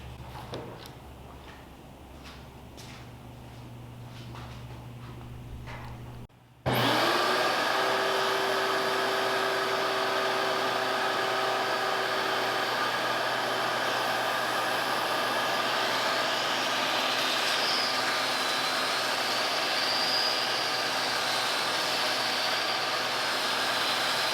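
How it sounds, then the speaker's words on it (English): A belt sander runs on a wooden cutting board clamped to a workbench. After a quieter stretch it starts abruptly and holds a loud, steady, continuous whir to the end. "so when I do use this belt sander, it won't go moving around on me too much"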